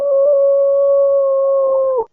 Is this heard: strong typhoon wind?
no